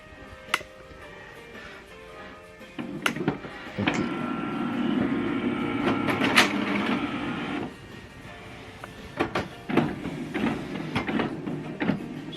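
An HP DeskJet Plus 4130 inkjet printer powering up, with a few sharp clicks followed by a mechanical whirring run of several seconds, then more scattered clicks and short motor bursts at close range.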